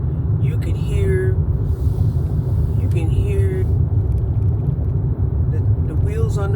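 An Infiniti car's wheels roll on the road, making a constant low rumble of tyre and road noise inside the cabin, with voices talking over it.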